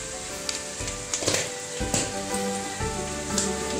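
Ground turmeric and cumin sizzle in a pan of frying mutton in a home Bengali kitchen, a steady crackling hiss with occasional louder bursts and spoon stirring, close up.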